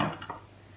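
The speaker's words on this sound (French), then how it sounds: "je vais mélanger délicatement pour essayer de faire le moins de grumeaux possible" A spoon clinks against a bowl while flour is gently stirred into a mixture for a savane cake, a few quiet metallic taps at the start that fade into near-silence.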